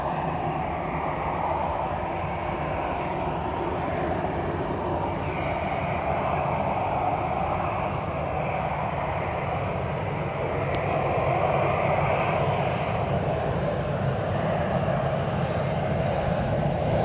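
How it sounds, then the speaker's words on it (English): An Airbus A320 jet departing Dublin Airport for Amsterdam gives a steady, distant engine roar and broad whine that holds level for the whole stretch, mixed with wind noise and free of talk. "So A320 to Amsterdam is going to follow the A330 to Miami."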